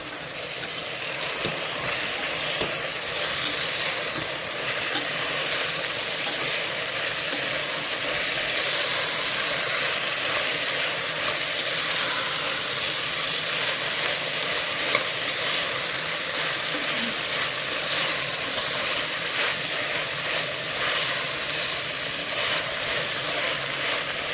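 Mixed vegetables heavy on peas sizzle and fry steadily in a pan while being stirred for veg pulao. A continuous close sizzle runs throughout with light scraping of the stirring.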